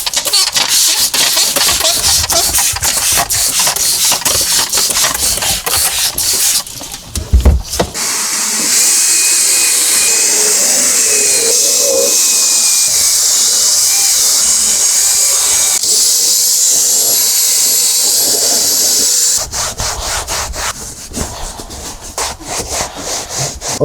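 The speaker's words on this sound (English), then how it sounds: "I'm going to drill brush it, and I'm going to blot it up with my microfiber" A drill brush scrubs a car headliner, a loud steady whirring scrub with brief pauses and shifts in tone, running alone for most of the stretch.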